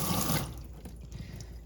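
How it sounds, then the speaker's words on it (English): Running water rinsing scales off a freshly caught panfish under a tap, a steady splashing stream that is strongest at first and then settles into a softer continuous flow. "Now to get all the scales off, we just rinse off our fish."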